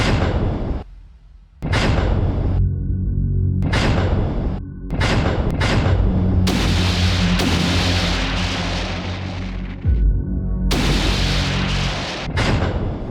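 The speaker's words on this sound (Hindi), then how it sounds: "सुपर रैपिड गन पलक झपकते ही हर एक को टारगेट कर नेस्तनाबूद कर सकती है।" A naval Super Rapid Gun Mount on a destroyer at sea fires repeated heavy booms, loud and close, blending into a continuous roar of blasts and rumble with short gaps between bursts.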